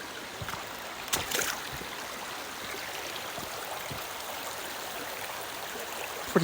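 Water flowing along a small irrigation canal past a gate, a steady, even rushing murmur outdoors, moderately near, with a few faint knocks and bumps but no talking.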